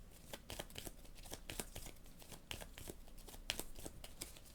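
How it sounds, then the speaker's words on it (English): Quiet, close shuffling of Leviathan Wilds board game cards, a rapid run of soft riffling clicks and papery flicks in an uneven rhythm with no talk. "So we're going to shuffle these up."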